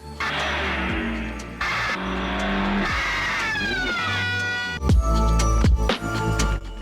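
A car skids off the road in Godard's film Weekend, a saturated cinema soundtrack of engine drone and squealing tires with abrupt cuts and a louder crashing burst near the end.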